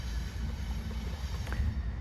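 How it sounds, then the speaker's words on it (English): Trains on the tracks beside the Amtrak station in Cumberland give a low, rolling rumble with faint metallic rattle, heard briefly from a short distance. "Our hotel was across the street from the Amtrak station, and our room overlooked the tracks. Most guests would probably have complained about the train noise"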